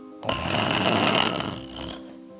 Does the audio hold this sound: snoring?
yes